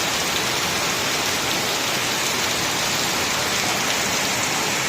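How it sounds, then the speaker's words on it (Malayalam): Heavy rain with wind pours down steadily in a dense, loud, unbroken roar of drops hitting surfaces, with no voices. "ഇവിടെ നല്ല സൂപ്പർ മഴയാണ്, സൂപ്പർ മഴ. നല്ല കാറ്റുമുണ്ട്."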